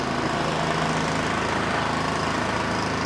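A Craftsman 24-inch snow blower engine runs steadily close by, giving a loud, even mechanical drone with a regular low throb and no talking over it.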